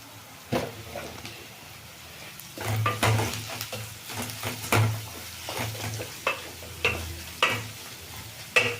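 Onions frying in a pan for upma, a low steady sizzle punctuated by repeated spatula scrapes and stirs against the metal, close and fairly quiet, with no speech.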